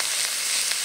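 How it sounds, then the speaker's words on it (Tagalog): Calamares with carrots and Baguio pechay stir-fry in a hot pan with no water added, giving a loud, dense, even sizzle that crackles steadily throughout. "stir fry lang siya. So, naluluto lang yung gulay dun sa init ng kawali."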